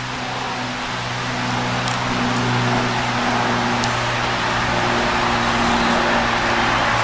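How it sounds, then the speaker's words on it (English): Steady road traffic rumbles beside a campsite in Ravensburg State Park, Pennsylvania, with a big truck's low engine drone and tyre noise holding at a moderate distance throughout, with no voices. "occasionally a big truck drives by."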